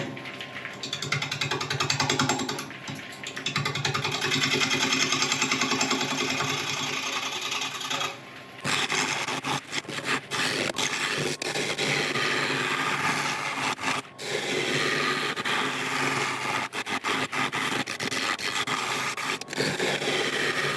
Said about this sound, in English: I've sharpened up my 1/2" ball gouge, and we can start turning at a shade under 600 RPM